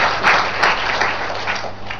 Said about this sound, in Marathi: कुठून वाजल्या टाळ्या